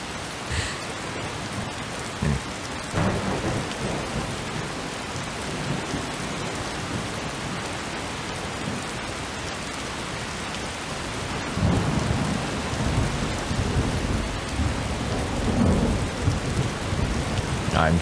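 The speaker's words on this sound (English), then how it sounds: "That is some heavy rain." Heavy rain pours down in a steady, dense roar, with low rumbles of thunder underneath that grow stronger toward the end, in the video game Skyrim near Riverwood.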